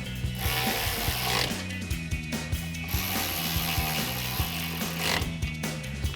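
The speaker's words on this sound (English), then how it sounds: "Grab our ratchet and 10mm socket." A ratchet fitted with a 10mm socket clicks in quick repeated bursts while tightening bolts on Silverado 1500 power running boards, close and fairly quiet, with no talking.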